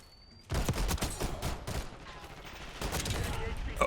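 AK74 gunfire in a video game: after a quiet start, a sustained burst of rapid automatic shots rattles on, fairly loud and continuous, with game noise underneath.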